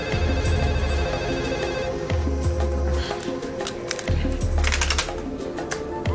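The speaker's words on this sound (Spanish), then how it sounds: "está sonando el teléfono." A telephone rings in a home in repeated bursts, each trill separated by short gaps, with faint background clatter and no clear talk.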